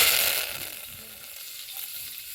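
Curry leaves drop into a hot pan and crackle in a bright sizzle that is loudest at first and then settles to a softer steady fry.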